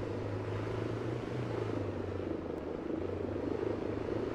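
A helicopter in the video game Arma 3 drones steadily with a constant low rotor and engine rumble throughout, moderately loud with no speech.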